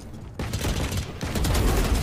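A jump shot in Valorant, a burst of rapid gunfire that cuts in sharply after a short quiet moment and continues loud and close, with a brief break partway through.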